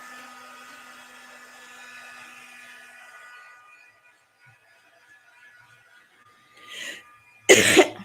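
Two harsh coughs burst out near the end, loud and close, after a stretch of fading mechanical hum and near silence.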